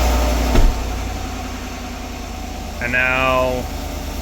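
A 2019 Chevrolet Silverado 1500 idling steadily after a push-button start, a low constant engine hum close by with a short thump near the start and a person speaking briefly over it.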